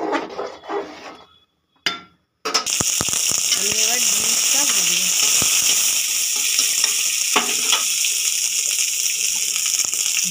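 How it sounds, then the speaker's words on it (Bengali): Fresh winter carrots drop into a hot pot and begin frying, a loud, steady hiss and crackle after a brief stretch of talking and a quiet pause, with a few scraping stirs. "এবার আমি গাজরটা হাঁড়িতে দিয়ে দেবো"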